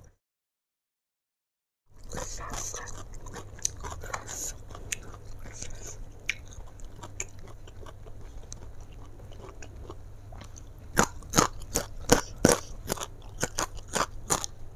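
Close, crisp crunching and chewing of raw vegetables and young jengkol eaten with spicy squid sambal, after a brief silence, with sharp bites growing louder and more frequent toward the end.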